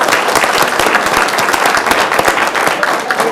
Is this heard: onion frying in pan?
no